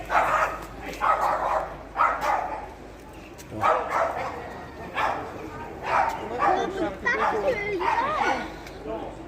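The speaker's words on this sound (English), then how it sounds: "It's always the fucking little dogs," Small dogs bark and yip repeatedly in short bursts nearby, at moderate volume, mixed with background chatter from people talking.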